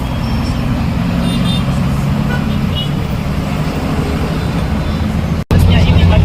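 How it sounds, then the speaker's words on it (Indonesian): Kampala morning rush-hour traffic jam of cars and motorbikes, heard from a moving bus: loud, constant engine rumble and road noise close by, with faint horns and a brief dropout near the end. "Sambil melihat suasana Kampala di pagi hari jam 8-an, macet mobil dan juga macet motor."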